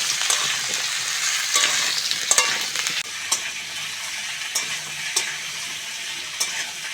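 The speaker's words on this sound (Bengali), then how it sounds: "টমেটো আর আলুটা ভালো করে ভেজে নিয়েছি" Raw tomato and potato fry in a hot pan, with a loud, steady sizzle broken by frequent clacks and scrapes of stirring against the pan.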